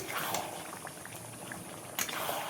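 Chicken kosha curry simmering and bubbling in a pan, a steady soft boiling crackle with faint pops throughout, no talking.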